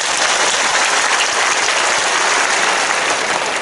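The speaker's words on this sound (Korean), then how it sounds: "다 같이 함께 박수로" Steady, full applause fills a hall at a Korean church prayer meeting marking the 100th anniversary of the March 1st Movement, a thick uninterrupted roar of many hands clapping at once.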